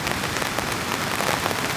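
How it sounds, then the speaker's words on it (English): Heavy rain drums steadily and loudly on a heated camping tent during a rainstorm, a dense, continuous patter close overhead with no voices. "But the rain's picking up big time."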